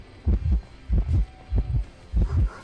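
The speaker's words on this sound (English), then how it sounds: "I could tell she was still following me by my heartbeat" Heartbeat warning from the video game Identity V as the killer draws near: four evenly spaced, loud double thumps, deep and throbbing, with no talk over them.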